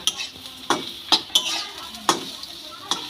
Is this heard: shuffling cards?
no